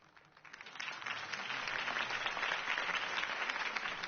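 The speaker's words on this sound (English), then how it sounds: "If only Mr. Wayne, my campaign's largest backer, could have heard that applause" A crowd in the Telltale Batman video game applauds Harvey Dent's campaign speech, clapping rising quickly from a soft start into a dense, sustained wash that holds steady to the end.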